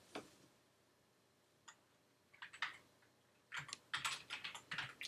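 Quiet bursts of typing on a computer keyboard, a few isolated keystrokes at first, then quick clustered clicks toward the end.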